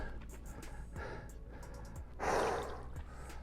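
Heavy, effortful breathing of a paddler catching breath after a hard 10K paddle outdoors, with one louder gasping exhale midway amid steady wind noise.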